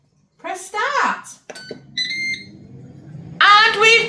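A dual air fryer roasting gammon and chicken gives a series of short, clear electronic beeps when the gammon is done, heard close up between bursts of talking.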